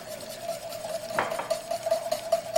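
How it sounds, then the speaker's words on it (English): A whisk stirring butter into a sauce in a pan, soft repeated swishing and light metallic scraping with a faint steady hum underneath, close and fairly quiet. "we're going to whisk a little touch of butter into our sauce"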